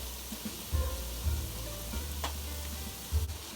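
Soy sauce hitting hot oil in a pan of keto cauliflower fried rice, giving a soft, steady sizzle broken by a few low thumps and scraping stirs.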